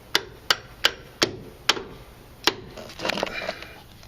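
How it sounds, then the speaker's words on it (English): Close hammer strikes on a metal punch driving a bolt through during a Mazda 626 transmission swap, six sharp blows at a steady pace, followed by softer scraping and tapping. "now just to get a hammer and punch it through"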